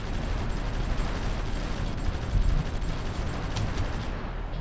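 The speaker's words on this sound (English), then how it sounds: "An artillery." Artillery fire in the strategy game Supreme Ruler Ultimate, a steady rumbling barrage of low booms and distant blasts blending into a continuous roar, with a slightly heavier burst near the middle.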